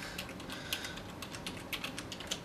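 Keys clatter on a computer keyboard in a quick, uneven run of soft clicks, close and fairly quiet against a faint background hum.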